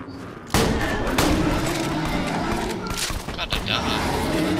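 Shotgun blasts and gunfire in the Borderlands 2 video game, a sudden loud burst followed by sustained crackling combat noise with repeated thumps, all close and dense.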